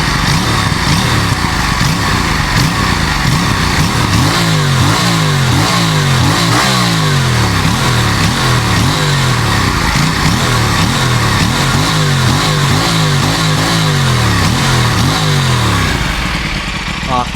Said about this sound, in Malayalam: ഇത് സ്റ്റോക്ക് എക്സോസ്റ്റാ, സൗണ്ടിങ് സോ ഗുഡ് അല്ലേ.